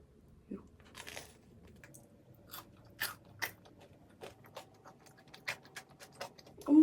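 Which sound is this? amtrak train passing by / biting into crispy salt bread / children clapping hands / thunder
biting into crispy salt bread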